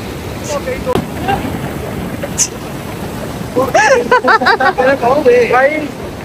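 Strong, very cold mountain water gushes under pressure over beef being washed for Bihari kebabs, a steady broadband rush throughout with someone talking over it.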